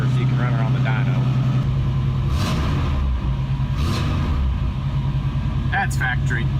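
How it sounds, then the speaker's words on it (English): Hot rod car engine at factory high idle, a steady low rumble running throughout, close by and loud, with someone talking over it. "she's got that factory high idle option on her, you know, just to get her up to operating temperature sooner"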